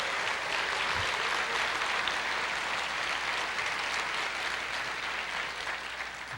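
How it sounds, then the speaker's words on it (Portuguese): A church congregation applauds the Lord during a Portuguese-language worship service, a thick, sustained roar of clapping from many people that eases slightly near the end. "Você pode aplaudir o Senhor"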